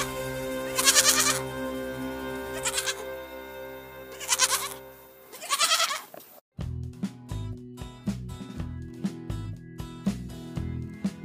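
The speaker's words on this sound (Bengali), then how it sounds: "ছয়ে ছাগল ছানা লাফিয়ে চলে।" A young goat kid bleats several times in short repeated calls, loud and close, followed by a burst of bright percussive music.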